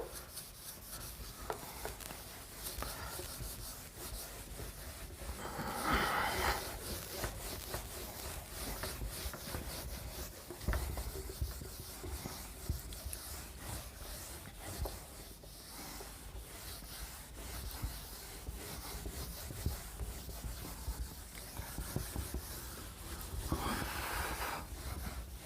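Writing is rubbed off a board during a physics class, a long rough scrubbing and swishing that comes in uneven strokes, close and fairly quiet, with louder bursts in places and no talk over it.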